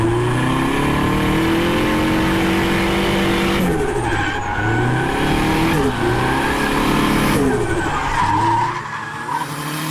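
Nissan 300ZX driven hard on a race track, engine roaring loud and close with shifting revs that dip and climb as tires scrub through corners.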